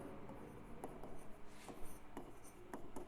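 Chalk or a pen scratching out a heading on a board during a Hindi grammar lesson, a faint run of short scraping strokes with brief pauses, close by and alone.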